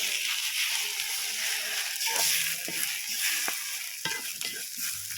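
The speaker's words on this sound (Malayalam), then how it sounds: "ആവശ്യത്തിനുള്ള ഉപ്പ് ഇത്ര മതി കേട്ടോ എല്ലാം കൂടി ഒന്ന് ഇളക്കി" Drumstick leaves being stirred in a frying pan with salt, a close sizzle under repeated scraping and tossing strokes of a spoon, loud and continuous.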